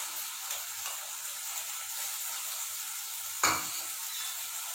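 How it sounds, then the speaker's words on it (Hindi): Boiled potatoes sauté in a hot pan with a steady, close, continuous sizzle and a single sharp clatter partway through, without speech. "हल्का सा इसको सौते करना है बस अब हमने।"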